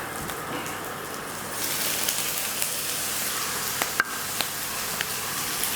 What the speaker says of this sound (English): Steak's in the pan.